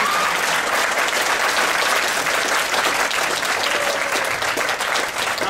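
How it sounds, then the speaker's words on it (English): A furry convention audience bursts into steady, loud applause, with a crowd of hands clapping continuously and little else heard. "I'm going to have to ask for a round of applause for Affinity."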